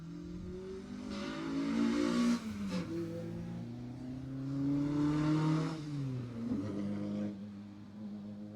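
A rally car on a closed stage roars past with rising and falling engine note, revving hard through the corner, fairly close and loud, then fading as it pulls away; no talk over it.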